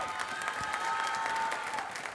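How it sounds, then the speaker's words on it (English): A crowd at a girls' high school basketball game applauds senior players, a steady moderate wash of clapping and cheering with a faint tone running underneath. "A round of applause"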